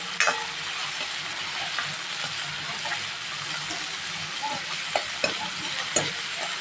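Onion and tomato frying in a pan for a gravy, a steady hissing sizzle close by, with a few light spoon taps and stirs near the end.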